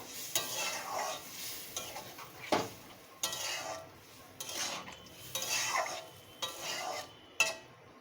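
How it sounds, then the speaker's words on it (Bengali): A prawn and taro-leaf curry is stirred in a pot after water goes in, with repeated rhythmic scraping and swishing strokes and a few sharp knocks of the spoon against the pot. "জলটা দিয়ে ভালো করে একটু নেড়ে দেব"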